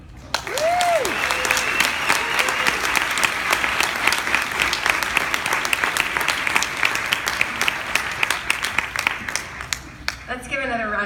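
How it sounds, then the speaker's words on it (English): Sustained audience applause and clapping fill the hall after a talk at an education event, steady and loud throughout with a voice briefly heard near the end. "Let's give another round of applause for Danielle and that really exciting."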